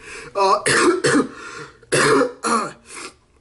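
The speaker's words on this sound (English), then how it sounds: "I just keep coughing and I'm sweating" A run of hoarse, throaty coughs and throat clearing, several bursts in quick succession, close and loud with short pauses between.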